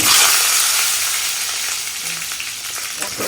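Pointed gourd frying with tempering spices in a Bengali home kitchen: a steady, close hiss of oil that is loudest at the start and eases slightly, with faint scraping along the way and no talking.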